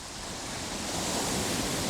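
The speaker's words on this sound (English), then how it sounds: "I hope you can hear me over these waves." Ocean waves wash in a steady, dense roar of surf, loud and continuous, swelling slightly toward the end with no voices over it.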